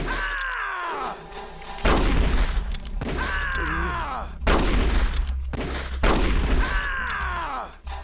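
Gunfire in Metal Gear Solid: Twin Snakes, with several loud bursts of shots and heavy booms repeating at short intervals, close and punchy.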